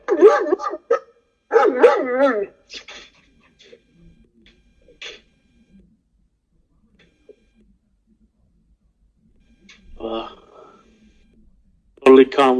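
Gull Dong dogs at a kennel bark in loud, sharp bursts, clustered at the start and end with long quiet gaps between, mixed with some human voice sounds.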